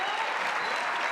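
Brief steady applause from a commencement crowd honoring graduates at a spring celebration, dense clapping filling the room without pause.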